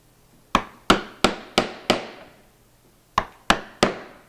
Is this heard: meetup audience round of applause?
no